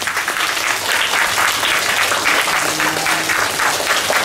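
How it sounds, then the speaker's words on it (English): Sustained applause from a school assembly audience fills the room at steady, fairly close volume, dense and even throughout with no pauses. "let's give her a big round of applause"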